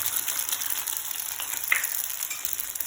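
Egg frying in hot oil in a pan for a local-style egg pasta, a steady close sizzle and crackle that holds at an even level throughout, with no voices.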